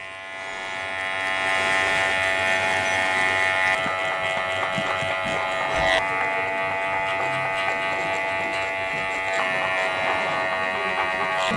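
Electric hair clippers buzz continuously while cutting a textured crop top fade, a close, steady, droning hum with slight pitch shifts as the blade moves through hair, with no talking.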